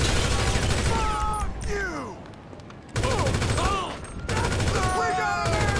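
Sustained heavy gunfire from a gang attack in GTA V, dense rapid bursts that dip briefly and resume, loud and close, with shouted voices mixed in.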